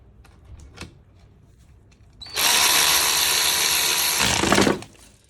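A Parkside PAR12A1 12 V cordless ratchet tightens bolts, its motor whirring loudly and steadily for about two seconds close up before cutting off, with quieter handling noises beforehand.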